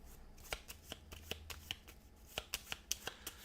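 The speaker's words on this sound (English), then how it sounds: "We will shuffle his deck up." A deck of cards from the Wingspan board game is shuffled by hand, giving a quick run of crisp, riffling card snaps and taps. It is close and quiet, with no talking.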